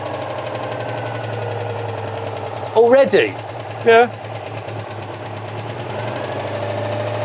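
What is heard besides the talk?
car engine idling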